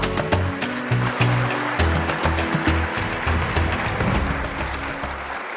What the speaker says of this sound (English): The applaud should not stop.